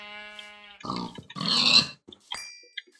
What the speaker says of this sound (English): I hear a pig